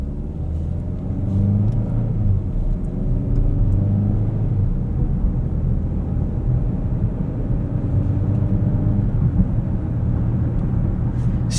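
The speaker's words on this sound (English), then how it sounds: "Let's head out and take it for a drive." A 2025 Chevrolet Equinox RS AWD on the move, with a steady low engine and road rumble filling the cabin throughout and no talking.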